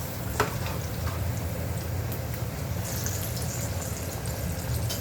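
Kothimbir vadi, coriander fritters, sizzle steadily in hot oil in a pan, with a brief scrape or clink early on as they are flipped; the frying hiss continues evenly throughout.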